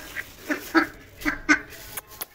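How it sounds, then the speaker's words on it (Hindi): Ducks fighting, giving about six loud, nasal quacks close by in an uneven sequence, with a couple of sharper calls at the end and no talking. "देख, हम आज फिर टाइटल है बत्तखों की लड़ाई।"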